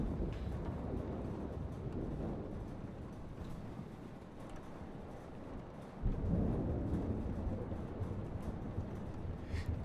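A thunderstorm in the video game Life is Strange, a steady low rumble of rain and wind with a heavier surge of thunder about midway, continuous and without speech.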